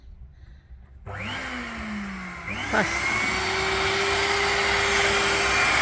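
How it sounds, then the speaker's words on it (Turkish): A vacuum cleaner switches on while a car is being cleaned and settles into a loud, steady whine with a few brief pitch sweeps. It keeps running to the end, and a voice speaks a single short word. "Bence de güzelmiş süpürgemiz."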